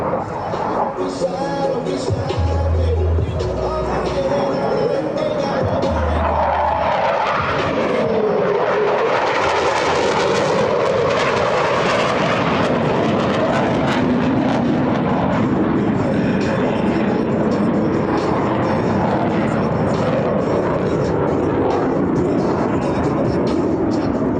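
US Navy Blue Angels jets crossing over show center at an air show, a loud sustained jet roar that swells to a peak midway and lingers as a broad rumbling wash, with a public-address announcer's voice briefly heard.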